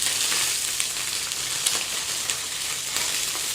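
Mackerel fillets fry skin side down in a hot pan, giving a steady, close, bright sizzle with small crackling pops throughout and no talking.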